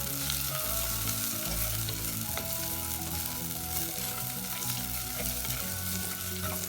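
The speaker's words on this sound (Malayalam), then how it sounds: "ചെറിയ ഉള്ളി ചേർത്ത ഉടനെ തന്നെ ഇഞ്ചി വെളുത്തുള്ളി കറിവേപ്പില കൂടി ചേർത്ത് നല്ല പോലെ ഒന്ന്" Shallots, ginger, garlic and curry leaves sautéing in a pan for a Kerala crab roast, a loud continuous sizzle with crackling and stirring scrapes, close up, with no voices.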